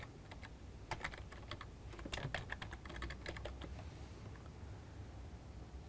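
Soft, distant clicking of keys on a computer keyboard as a custom view name is entered in Excel, several quick irregular keystrokes in a short burst over a quiet background hum.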